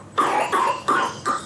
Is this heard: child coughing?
yes